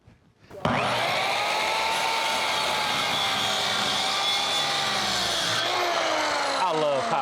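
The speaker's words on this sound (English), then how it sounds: "I love power tools." A loud power tool whirs steadily for several seconds after a quiet start, with a high whine that slightly shifts in pitch before winding down at the end.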